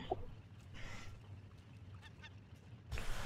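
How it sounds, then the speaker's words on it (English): Birds in the survival game Raft give a few honking, quacking calls, moderately loud and spaced apart over a low background rumble. "Bird, bird, bird, bird, bird, bird, bird."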